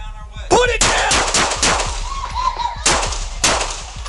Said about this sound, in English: 8-1, we got shot fired.